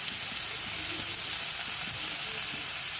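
Tomatoes and turmeric frying in oil for egg curry, a steady, close, dense sizzle that hisses evenly throughout without pause.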